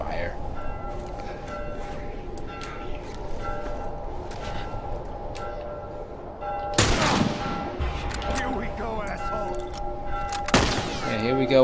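Gunfire in the video game The Last of Us Remastered: two loud, sharp shots with ringing tails stand out against a quieter, tonal background, and a voice talks in between.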